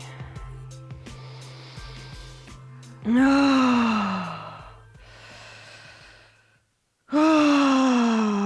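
Deep breathing during a guided relaxation session, long slow breaths heard up close: soft airy inhales alternating with loud voiced, sighing exhales, two strong exhales standing out clearly with no talking.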